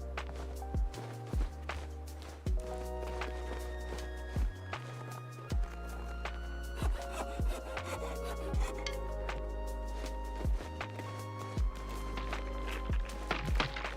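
Hacksaw cutting maple in The Long Dark survival game, a steady run of rasping strokes under a low droning game ambience, each stroke marked by a soft thump, no voices.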